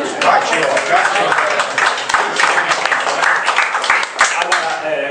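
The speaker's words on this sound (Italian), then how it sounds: "Un applauso." Applause from an audience at the inauguration of a CGIL labour office in Pianopoli, steady dense clapping over about five seconds with some voices mixed in.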